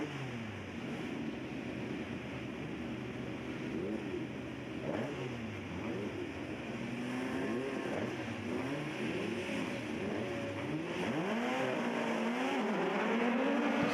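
Autograss race cars launch together at the start of a race on a grass-and-dirt track, a dense roar of revving engines swelling steadily and holding loud throughout with no talk.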